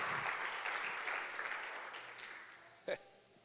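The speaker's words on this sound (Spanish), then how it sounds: "¿Alguien se atreve a aplaudir a Dios porque el Padre pudo dar su Hijo" A church congregation applauding God, a sustained wash of clapping that slowly fades over a few seconds, with a brief sharp bump near the end.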